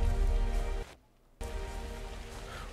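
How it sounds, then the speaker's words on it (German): Steady rain falls in the survival video game ARK: Survival Evolved, a soft continuous hiss that briefly cuts out for a moment before resuming, with no talking. "Bei mir regnet es immer noch."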